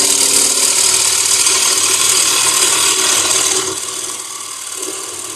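A wood-turning gouge shear-cutting a bowl on a lathe gives a steady, loud rasping hiss for about three and a half seconds, then eases into a quieter continuing scrape.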